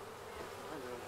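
Honey bees in an opened springtime beehive, a dense steady buzzing hum from many insects, close and continuous with no talking over it.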